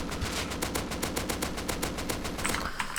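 AK assault rifle spray fire in the video game Rust: a sustained rapid burst of evenly spaced automatic gunshots lasting about three seconds, steady and moderately loud, with no talking.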